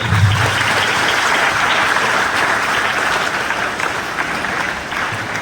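Sustained applause from a large audience at a high school prize distribution ceremony, a dense, even clatter of clapping that holds steady and eases slightly toward the end.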